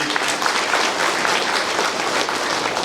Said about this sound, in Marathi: त्या बशीरभाई हजवानींसाठी जोरदार टाळ्या